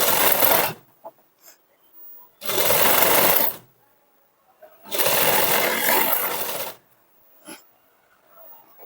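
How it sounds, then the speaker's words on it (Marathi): Sewing machine stitching piping strip onto a garment neckline, three sustained whirring bursts of about a second each separated by quiet pauses, close and clear. "आणि नंतर आपल्याला इथं शिलाई मारून घ्यायची आणि इथे व्यवस्थित लॉक करून घ्यायचं"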